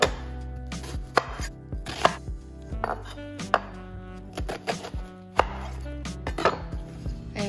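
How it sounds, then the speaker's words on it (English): Half an onion chopped with a knife before sautéing, giving a series of sharp, close, irregular cutting-board knocks with short gaps, clear and alone with no voices. "I'm chopping up half an onion."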